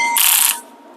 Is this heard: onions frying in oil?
no